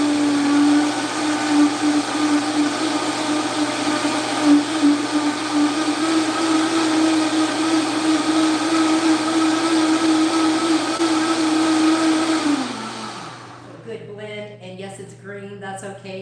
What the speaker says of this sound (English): I am going to blend this, so it's going to give it loud here for just a quick second